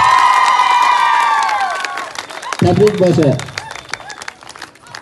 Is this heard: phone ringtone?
no